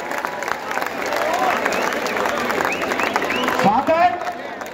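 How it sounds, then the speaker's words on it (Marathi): Crowd at a Govinda festival event clapping and cheering for a women's Govinda troupe, a dense burst of applause with whistles and shouts, fairly loud and continuous, rising near the end. "खतरनाक टाळ्या झाल्या पाहिजेत."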